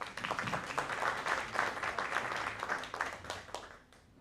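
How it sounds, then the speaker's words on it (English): An audience at a school reclassification ceremony applauds with steady, dense clapping that holds for several seconds, then fades out near the end. "Big round of applause for Cora."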